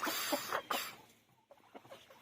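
Backyard coop chickens, including silkies, on a bitterly cold day with some hens sick, clucking in a few short close bursts that fade into quieter calls.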